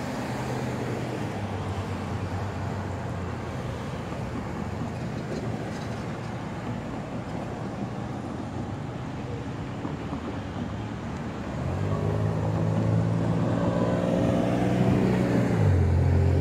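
An FEC freight train, number 262, crawls slowly into the West Palm rail yard with a steady low rumble, and a louder droning engine tone builds near the end.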